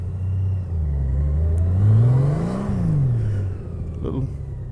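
A Honda Gold Wing motorcycle makes a slow U-turn on a road in Florida, its engine humming close by with pitch sinking, rising and falling again as it turns.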